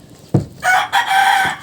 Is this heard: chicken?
yes